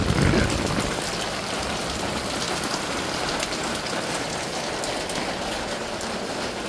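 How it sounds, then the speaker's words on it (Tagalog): Steady rain pours onto a Manila street during a typhoon, a dense continuous hiss of drops on pavement and surfaces, close and even throughout with no talk. "kasi umuulan"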